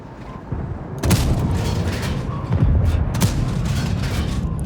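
Tank cannon shots with APCR rounds in World of Tanks, two heavy booming blasts about two seconds apart over a steady rumbling battle din, loud and close.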